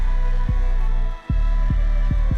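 An older 2012 computer hums steadily in the background, a low droning whir with soft periodic thumps roughly every half second and a brief dip in the middle, continuous and without talking.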